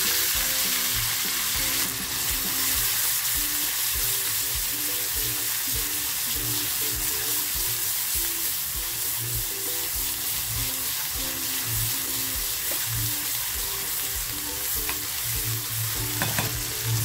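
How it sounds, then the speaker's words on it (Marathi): Onion, ginger, garlic and chili frying in hot oil while being stirred for an egg masala, a steady close sizzle with scraping stir strokes throughout, no talk. "आता जो कांदा, अद्रक, लसूण, मिरची घेतली होती ती टाकते।"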